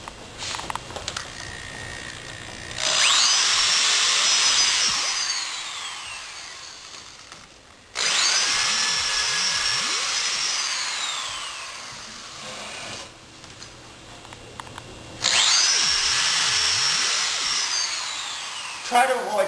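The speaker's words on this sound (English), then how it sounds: "I'll drill on this side and show" Power drill boring into a wooden 2x4 while building concrete formwork: three long, loud whining bursts of drilling separated by pauses, with the pitch shifting as the bit bites, close by.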